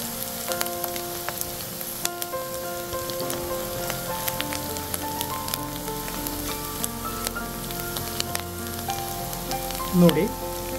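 Onions frying in ghee and oil for dal khichdi, a steady soft sizzle with occasional pops and light crackle, plus a brief louder clatter near the end.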